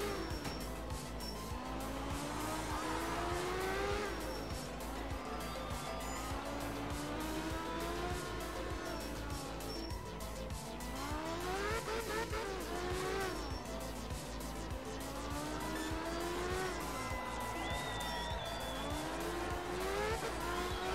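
Rally car engine revving and shifting continuously along a long gravel stage in the game Art of Rally, with rising and falling pitch, occasional tire skids, and steady close loudness throughout.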